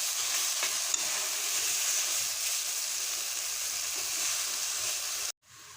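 Grated coconut stirred and heated in a pan for beetroot pachadi, a steady close sizzling hiss with faint scraping of the spoon running throughout, cutting off abruptly near the end.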